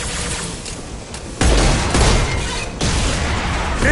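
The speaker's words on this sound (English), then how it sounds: "That fuel tank's coming loose. Shoot it! Bring it down on top of..." Heavy gunfire and booming blasts rattle through a Mass Effect 2 firefight as shots bring down a loose fuel tank, a dense, loud barrage that jumps in intensity partway through and stays sustained.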